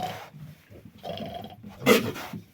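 A nervous Vietnamese pot-bellied sow barking protectively over her piglets: a few short, gruff, dog-like grunting barks in quick bursts, the last one loudest, close by.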